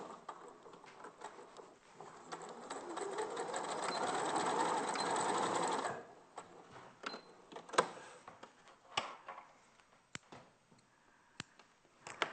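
A domestic sewing machine runs a steady stitching burst for a few seconds, rising and holding at a rapid whir before stopping, followed by scattered clicks and handling taps, close and fairly quiet.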